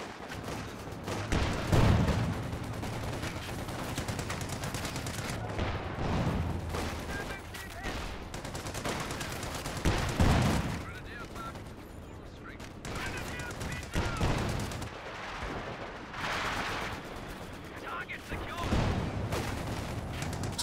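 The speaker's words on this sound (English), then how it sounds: "And then mortar pit starting to barrage those folks." Mortar pit barrage in Company of Heroes 2 during a 2v2 match: dense, continuous gunfire and repeated heavy explosions booming throughout, with a commentator talking over the battle.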